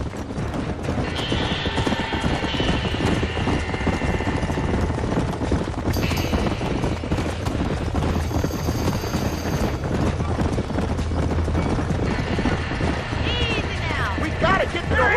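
Horses trapped in a burning barn in Red Dead Redemption: hooves clatter and stamp under continuous roaring noise, with frightened whinnies rising at times and urgent voices shouting over the commotion.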